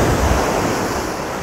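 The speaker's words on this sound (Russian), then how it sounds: "Море такое черное, бушующее." Stormy Black Sea surf pounds the Crimean shore in a loud, continuous roar, with rushing wash and gusty wind buffeting the microphone throughout.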